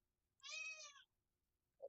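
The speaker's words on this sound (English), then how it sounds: "That's my cat." A pet cat gives one clear, fairly close meow in a quiet room, followed by a faint short chirp at the very end.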